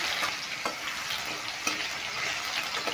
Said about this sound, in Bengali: টমেটোটা দিয়ে একটু মেরে ভেজে নিলাম